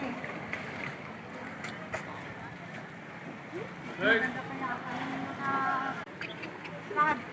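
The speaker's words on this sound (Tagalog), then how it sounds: "Oh, yan yung tubig ng dagat." Seawater splashes and washes along a slippery, moss-covered shore, a steady wet rush under wind noise and people talking, with a few louder sloshes toward the end.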